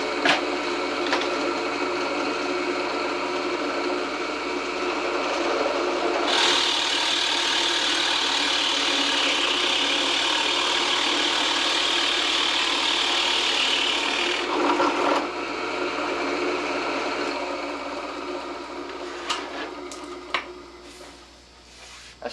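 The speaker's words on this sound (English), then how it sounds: "Just in case anybody out there in the world of TV land never seen a hole being cut before." Hole being cut into wood to a depth of 9/16 inch for a hinge, a sustained grinding, rasping cut with a louder middle stretch, then fading into scattered scraping and knocks near the end.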